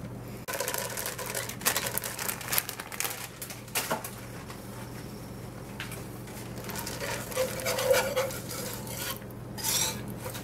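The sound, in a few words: stirring melting chocolate and butter in a pot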